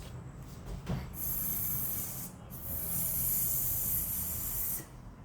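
A voice hisses a long, airy buzzing-bee sound twice, imitating a bee for a phonics lesson, close and steady with a short breath between.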